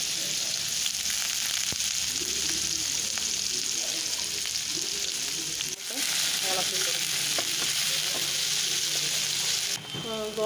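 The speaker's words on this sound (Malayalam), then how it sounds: "ഗോൾഡൻ ബ്രൗൺ ആവുന്നത് വരെ നമുക്ക് ഇളക്കി കൊടുക്കാം" Sliced onions fry in hot oil with mustard seeds for a Hyderabadi chicken curry, a loud steady sizzle with occasional scraping stirs of the pan close by.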